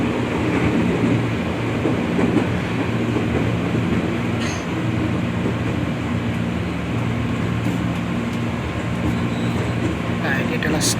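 A KRL commuter train on the Bogor Line rumbles steadily from inside the car, a continuous loud rolling drone with faint wheel squeals, with voices and an onboard announcement murmuring beneath.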